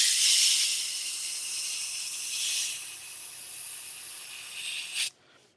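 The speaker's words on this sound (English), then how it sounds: "this is just an acrylic airbrush paint" An airbrush sprays plain acrylic paint in a steady, close hiss for about five seconds, swelling slightly midway, then cuts off abruptly into near silence.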